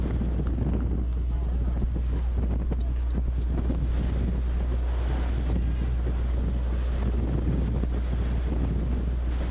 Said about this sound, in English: 30-mile-an-hour wind. Gusts. Blowing out to right.